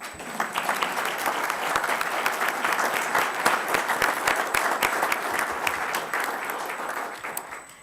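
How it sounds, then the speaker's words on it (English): A large audience at a State of the City address gives a city manager a sustained round of applause: dense, even clapping fills the hall for several seconds at a steady loudness, with no voices over it. "City Manager Eric Tungate, please stand up for a well-deserved round of applause"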